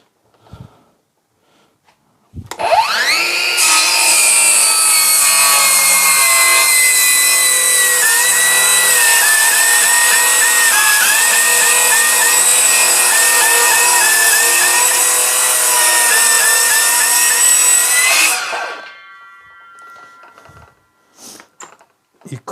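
A Ryobi cordless power tool on a high-energy battery cuts through wood in one long, loud, steady burst of about fifteen seconds, its motor whining and pulsing as it bites, then spinning down and stopping.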